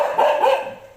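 A dog sitting by an air cooler gives a couple of quick, close barks in a short burst, loud and clear with no talk over it.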